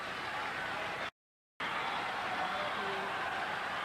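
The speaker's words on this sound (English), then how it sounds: "cheering for Borg to extend this." A crowd at a 1981 tennis exhibition match between Borg and McEnroe applauds and cheers in a sustained, dense roar, broken briefly by a short gap of silence before resuming.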